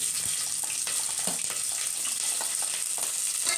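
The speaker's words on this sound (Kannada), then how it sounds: "ಇದು ಒಂದು ಎರಡು ನಿಮಿಷ ಫ್ರೈ ಆಗಲಿ ಎಣ್ಣೆ ಈರುಳ್ಳಿ ಮತ್ತು ಪಲಾವ್ ಎಲೆ ಹಾಕಿದೆ" Onion and bay leaf frying in hot oil in a home kitchen pan, a steady soft sizzle with faint crackles, continuous and fairly quiet throughout.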